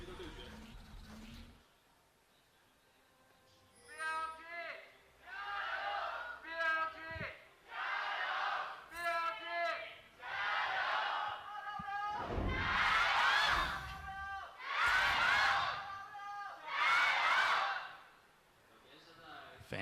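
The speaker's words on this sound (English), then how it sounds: "Fans still cheering and representing as best they can." Esports fans in an arena in Hangzhou at an LPL Spring Split playoff match between Bilibili Gaming and Rogue Warriors, chanting and cheering in rhythmic loud bursts that repeat and swell, with distant thumps between them.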